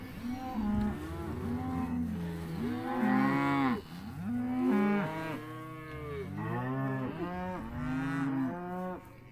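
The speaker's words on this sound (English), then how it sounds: "Bulls can smell and see the cows, so they're getting worked up here" Several cattle, bulls and cows, moo loudly and repeatedly, long overlapping bellows rising and falling close by, with barely a pause between calls.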